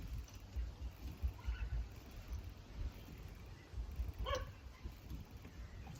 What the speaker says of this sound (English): What are they barking at, Chuck?